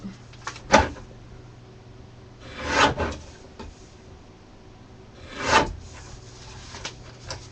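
Paper or card being trimmed for a December scrapbook page, heard as three separate rasping cuts or slides spaced a couple of seconds apart, close and fairly quiet, with light handling noise between them and no talk.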